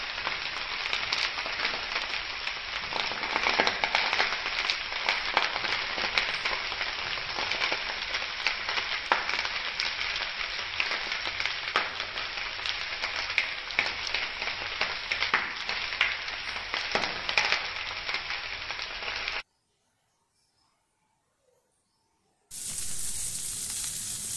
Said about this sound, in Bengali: আলুটা তো ডান হয়ে গেছে, ফুলকপিটা একটু ভালো করে ভেজে নিই